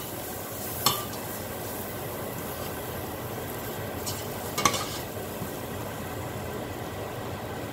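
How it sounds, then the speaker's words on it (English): Bhindi frying in a pan gives a steady low sizzle while spices are stirred in, with two sharp clinks of a utensil against the pan. "Now we'll mix it well."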